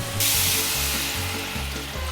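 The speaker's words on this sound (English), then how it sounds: "the sizzling suddenly just went down" Steady, loud sizzling of food frying in a hot pan, a continuous crackling hiss with a faint rhythmic low thump underneath.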